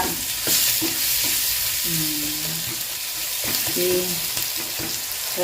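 Onions frying in a clay pot produce a constant crackling sizzle, broken by repeated scraping and knocking from a stirring spoon against the pot, with faint tonal clinks mixed in.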